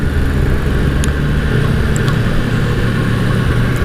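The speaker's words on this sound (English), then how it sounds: "it's just a lot of fun to ride this amazing bike" A 2022 Yamaha MT-10 motorcycle engine drones steadily while riding, a loud, close, continuous rumble mixed with wind roar and no talking.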